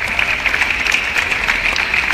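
Steady applause from an audience at an interuniversity sports games ceremony, honouring university sports officials as they are introduced; even, continuous clapping that stays loud for the whole stretch.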